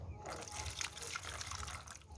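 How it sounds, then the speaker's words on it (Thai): Rinse water tipped out of a container after washing, a steady, close splashing pour lasting a couple of seconds, with a voice partly mixed in. "เสร็จแล้วก็เนี่เทน้ำทิ้งจ้ะ"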